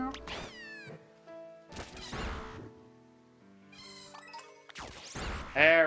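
Cat Pokémon in the Pokémon Scarlet video game let out several sharp meows and yowls in bursts, loud and close, mixed with game sound effects.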